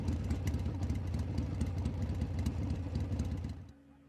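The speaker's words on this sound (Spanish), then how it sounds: "La moto." Motorcycle engine running steadily and fairly close, a throbbing rumble that holds level and then drops away near the end.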